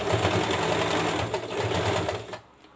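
Sewing machine running steadily as it stitches a frill onto a sleeve, a fast even mechanical whir that stops abruptly near the end.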